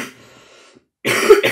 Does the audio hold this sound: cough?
yes